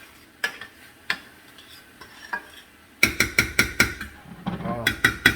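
Peppers are sautéed in a pan while a utensil stirs them, giving a soft sizzle under sparse scraping clicks that turns into a quick run of loud, rhythmic scrapes and knocks against the pan.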